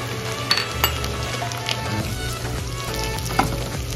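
Garlic and chili frying in a pan, a close, steady sizzle with occasional clinks and scrapes of a utensil against the metal.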